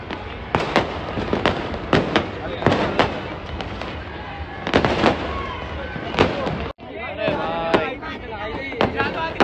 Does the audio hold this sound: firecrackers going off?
yes